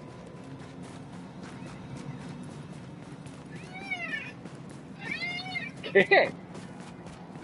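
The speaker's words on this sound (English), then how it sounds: "This fucking cat, man." A cat in a PS4 game meows several times, growing louder with a sharp final yowl, while someone talks and game noise hums underneath.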